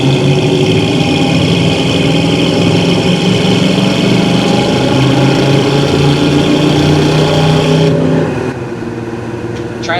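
A warmed-up car engine runs steadily and loudly throughout, with a sustained mid-range drone and harmonic hum, easing off slightly near the end; no clear surge of revving stands out.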